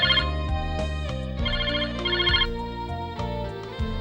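A telephone ringtone repeats in a household scene: a bright, melodic electronic pattern that rings loudly and close, phrase after phrase, for the whole stretch with no voices over it.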